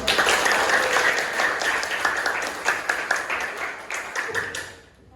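Schoolchildren in a classroom applaud together, a dense burst of clapping that holds steady and loud for about four seconds before thinning out and stopping.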